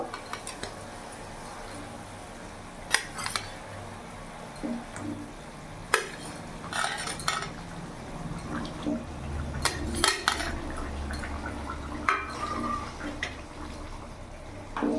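Tilapia fish pieces are dropped one by one into boiling curry, giving soft plops, liquid splashes and occasional utensil clinks over a low, steady bubbling, moderately quiet and without talking.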